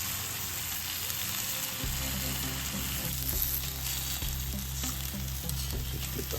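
Bacon sizzling steadily in a hot pan, a continuous close crackle and spit with a few scraping stirs partway through, no talking.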